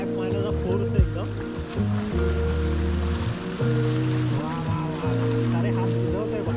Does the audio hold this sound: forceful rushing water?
yes